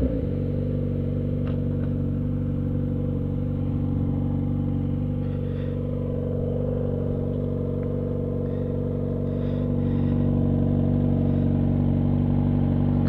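A motorcycle engine making a strange noise idles with a steady low rumble and droning hum, running continuously at close range with no voices.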